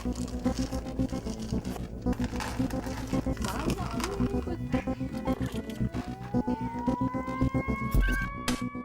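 Cats at a volunteer cat shelter meow and yowl repeatedly at close range, a busy overlapping chorus of cries over a continuous background murmur.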